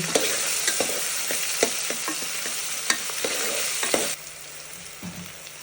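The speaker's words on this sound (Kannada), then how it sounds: "ಸ್ವಲ್ಪ ನೀಟಾಗಿ ಇದು ಫ್ರೈ ಆಗಲಿ" Onions fry in a pan with a bright, steady sizzle and repeated scraping taps of a spatula stirring them, the sizzle dropping suddenly near the end to a quieter simmer with a few last stirs.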